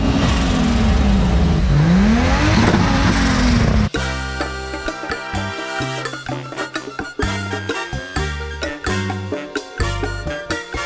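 Cars revving on a street in Santiago, Dominican Republic, where people gather to show off their cars: a loud, close engine roar rising and falling for a few seconds, then giving way to loud music with a strong beat.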